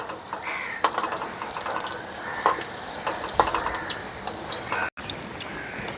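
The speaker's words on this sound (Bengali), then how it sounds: "খুব সুন্দর করে ভেজে নিয়েছি" Rice-batter pumpkin flower fritters frying in oil, a steady crackling sizzle with a few sharper spatters and light clinks, fairly close, with a single brief dropout near the end.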